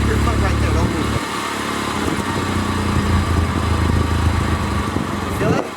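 A K20 engine runs at a steady, rough idle as the clutch is slowly let out, loud and close throughout, with a brief rise in pitch near the end.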